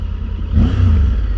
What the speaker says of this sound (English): I don't think there's a guy alive that doesn't rev his bike under a tunnel